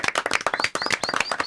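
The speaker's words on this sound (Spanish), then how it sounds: "aplauso del equipo" Team members clap together in a short burst of applause, a dense run of sharp hand claps close by with no talk over it.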